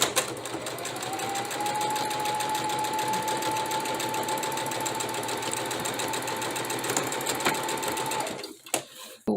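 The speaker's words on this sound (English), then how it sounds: "you're going to sew a 1/4 of an inch seam across this. Give a back stitch." A sewing machine stitches a quarter-inch seam across fabric with a steady fast mechanical whir and faint hum, running continuously for about eight seconds before stopping with a few clicks.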